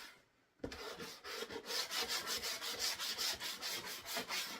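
Sandpaper rubs back and forth over a wooden DIY sign to give it a worn vintage look, close and rhythmic with about a dozen even strokes after a brief quiet start.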